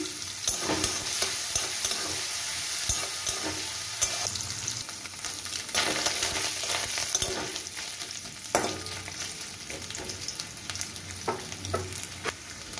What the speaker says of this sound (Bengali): আমার নারকেলগুলো সুন্দর করে ভাজা হয়ে গেছে।